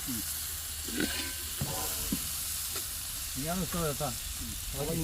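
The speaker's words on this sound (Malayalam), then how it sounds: "ഇങ്ങനെ ഇളക്കിക്കോ" Ghaf tree beans (khoka) fry in a pan in the UAE while being stirred, giving a continuous soft sizzle and hiss. People talk over it throughout.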